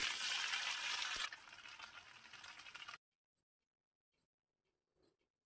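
An egg sizzles loudly in a little hot oil on a stove, crackling steadily for about three seconds before cutting abruptly to near silence.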